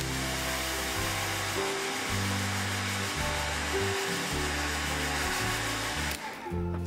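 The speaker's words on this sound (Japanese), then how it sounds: "溶けたらドライヤーで乾かします。" A hair dryer blows steadily to dry a watercolor pencil painting of a flower field, a continuous close whir with a low, shifting hum that cuts out near the end.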